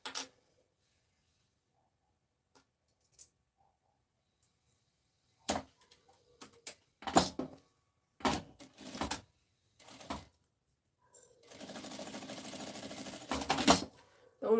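A sewing machine stitches a seam on a fabric cosmetic box in short bursts of rapid mechanical clatter with quiet pauses between them, ending in one longer, steadier run, close by.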